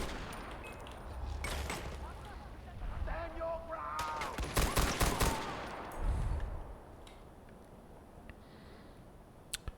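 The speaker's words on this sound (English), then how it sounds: "If this MG42 makes mincemeat out of everything." Bursts of MG42 machine gun fire in the video game Far Cry 4, several rapid broadband volleys clustered through the middle, loud and close, with game sounds and some voice around them.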